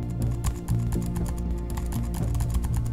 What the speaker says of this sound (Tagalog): tanging tunog ng pag-type at pagbalik ng pahina ang maririnig